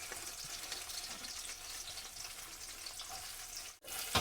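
Green chillies frying in hot oil produce a steady, loud, close sizzle with a bright crackling hiss, briefly cut near the end and then resuming.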